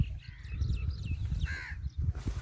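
Crows caw repeatedly over a village farm with young wheat, several harsh calls rising and falling against a low rumbling background, moderately near and with no one speaking.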